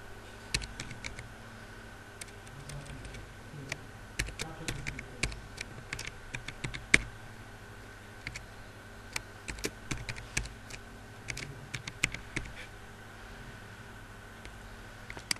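Soft, sparse keystrokes on a computer keyboard as a password is entered into an e-learning portal, faint irregular clicks in short bursts over a quiet background hum.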